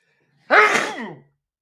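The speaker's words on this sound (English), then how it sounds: "that was a hard sneeze" A single hard, explosive sneeze bursts out after silence, loud and close, trailing off briefly before quiet returns.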